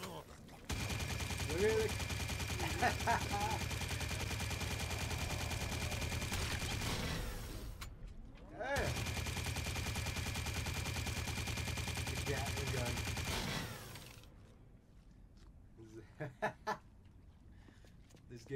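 Gunfire in the video game Drawn to Death, a dense, continuous burst of rapid shots lasting several seconds, pausing briefly and then resuming, ending with a few scattered louder pops and a brief spoken remark.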